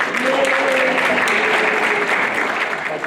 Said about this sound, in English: The applause should all go to Susan and Steve